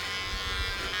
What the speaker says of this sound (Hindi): ये रहा ट्रिमर, इसमें है 10 है बट ये 20 सेटिंग्स है।